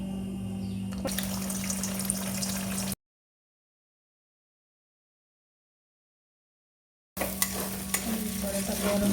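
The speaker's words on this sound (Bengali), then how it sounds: "এবার ডিমটা ভাজা ভাজা হয়ে গেলে তারপর চাউমিনটা সেখানে অ্যাড করে দেওয়া হলো" Eggs and chowmein sizzle in a wok while being stirred, a soft, close frying hiss with scraping in two short bursts separated by a silent gap.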